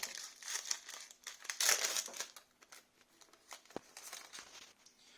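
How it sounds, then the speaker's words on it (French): A Pokémon Sword and Shield booster pack wrapper crinkles and tears open up close, with a dense burst of crinkling plastic in the middle and sparser rustles and crackles after, without talk. "On va ouvrir 36 boosters."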